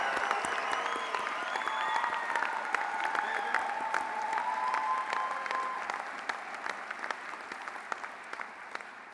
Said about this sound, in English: Please join me in an applause of all of these wonderful scholars.